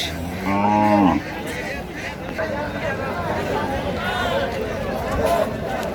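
Cattle at a busy livestock market: one cow gives a loud, close moo near the start, then a crowd chatters and bargains over the low animal noise.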